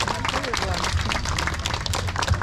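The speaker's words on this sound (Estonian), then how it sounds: "Tehke aplaus sellele härrale seal Eldis." Festival crowd applauding a man at a neighbourhood celebration, steady dense clapping throughout with crowd babble mixed in.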